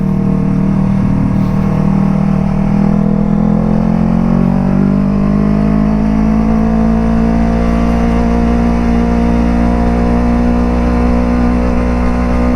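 Kawasaki Ninja RR 150 motorcycle riding on a bumpy city road, its engine droning loud and close with rising harmonic sweeps as the throttle is opened, steady throughout with no talk.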